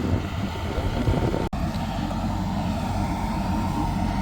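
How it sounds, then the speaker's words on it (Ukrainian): Heavy wind buffets the microphone in a constant low roar, briefly cutting out for a split second before resuming, with no voices, outdoors beside a Ремсинтез СіЧ seed drill. "Дуже сильний вітер, вибачаюсь"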